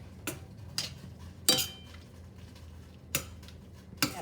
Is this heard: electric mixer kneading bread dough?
no